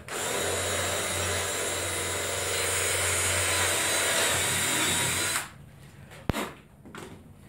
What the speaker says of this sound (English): Now what I need to do is drill the 1/4-inch hole in the middle